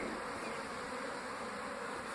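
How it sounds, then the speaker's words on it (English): Steady, dense buzzing of many worker bees swarming close by around their hive, a continuous droning hum with no pauses and no voices. "these bees are worker bees, and they are going in and out of their hive"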